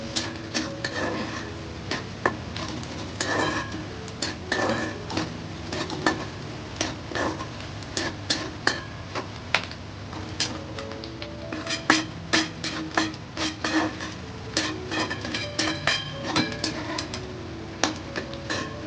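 Onion frying in hot oil in a kadhai, with a spoon scraping and clinking against the metal in irregular bursts over a steady low sizzle.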